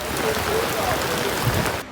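Dense, steady rain hisses and patters hard on a surface during a Sydney flash-flooding storm, a continuous wash of heavy downpour.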